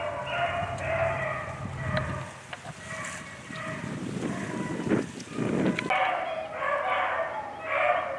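Several big farm dogs bark outdoors near a dog lot and hollow on a rural farm, repeated bursts at moderate distance over a steady background hum.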